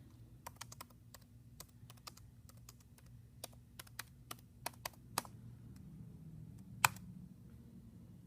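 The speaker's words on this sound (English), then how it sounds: "So I could type in my question." Keys clatter on a computer keyboard as a question is typed into a virtual classroom, a scattered run of light clicks over low room hum, with a louder tap near the end and no talking.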